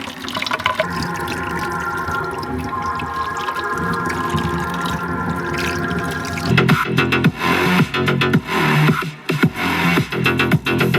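A BolaButty X-GO portable Bluetooth speaker plays tonal sound steadily at first. Partway through, it is washed and doused with water, and loud, uneven splashing and running water take over until the end.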